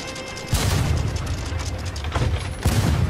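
Heavy booming blasts fire in quick succession, a dense volley of cannon shots with rumbling echoes, loud and close.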